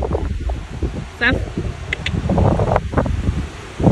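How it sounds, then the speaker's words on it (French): Strong wind outdoors buffets the microphone with a steady rumbling roar, and voices talk over it throughout. "Non mais il y a un vent pas possible."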